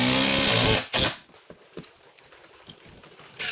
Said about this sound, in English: what I'm going to do is just run a couple screws.